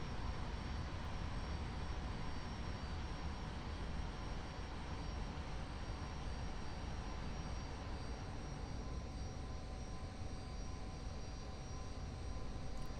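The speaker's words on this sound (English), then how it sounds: "it's kind of funny flying over this in a jet" A jet aircraft flies in DCS World, a steady, dense engine roar with a faint whine, constant and unbroken throughout, with no voices.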